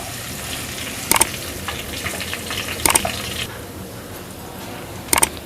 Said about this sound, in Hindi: इसको 1 आध मिनट भून लेंगे।